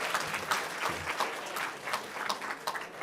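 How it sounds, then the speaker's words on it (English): A college forum audience gives a round of applause to the panelists, steady clapping from a crowd filling the whole moment without any voice on top. "how about a round of applause for our panelists here"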